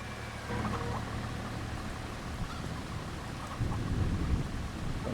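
Rain falls steadily in the video game Farming Simulator 25, with a deep rolling rumble of thunder beneath that swells louder toward the end.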